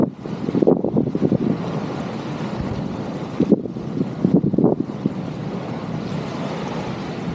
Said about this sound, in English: Now it's very windy now, so you probably won't be able to hear much.